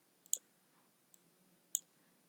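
Computer mouse clicks during a circuit simulation, three sharp, quiet clicks with one faint tap between them, close-up in an otherwise silent room.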